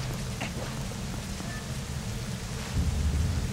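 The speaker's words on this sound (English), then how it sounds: "Now it's raining." Steady rain with a low rumble of thunder swelling near the end, from the Legend of Zelda: Twilight Princess video game near Hyrule Castle, continuous and fairly loud with no talking.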